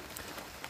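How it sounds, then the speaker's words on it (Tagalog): Steady rain falling on a surface in a rural farm setting, a constant dense patter with no pauses and no voices, heard for under a second. "Kanina pa ang ulan."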